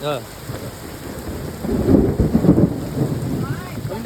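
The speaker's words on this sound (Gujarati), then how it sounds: "કડાકો થાય હો મિત્રો સાંભળજો ફટાફટ" Heavy rain pours steadily while a loud thunderclap rumbles through the middle, swelling and rolling for about a second before fading back into the downpour.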